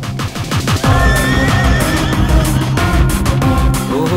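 A horse neighs loudly and closely in a Hindi-dubbed action film, its whinny layered over dense dramatic soundtrack music that fills the whole stretch.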